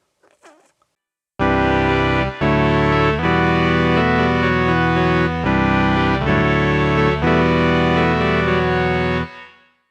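Sequential Take 5 synthesizer playing a big chordal patch with envelope-driven filter and reverb, sustained rich chords changing every second or so after a brief faint noise, loud and close, then cutting off with a short tail.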